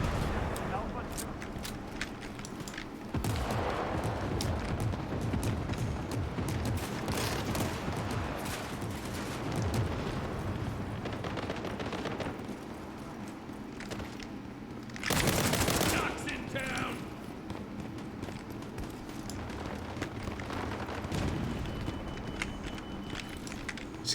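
Heavy firefight in the video game World War 3, with rapid machine-gun bursts and scattered gunshots crackling continuously, one sharper loud burst standing out midway, while someone talks over the battle.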